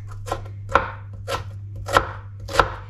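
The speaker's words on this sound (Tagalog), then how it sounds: "Magayat na tayo ng sibuyas." Onions chopped with a knife on a cutting board, five distinct thuds in a slow, fairly even rhythm, close and clear over a low steady hum, with no voices.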